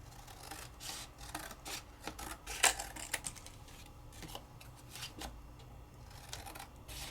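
Scissors trimming embossed, glazed paper for a craft project, a run of close, quiet snipping and rustling cuts with one sharper snip near the middle.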